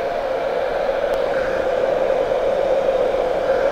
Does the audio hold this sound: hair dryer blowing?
yes